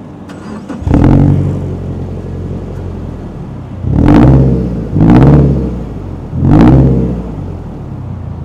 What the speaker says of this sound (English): I have the Nameless Axleback 3-inch exhaust. Love the way this thing sounds. I'll start the car and let y'all hear it.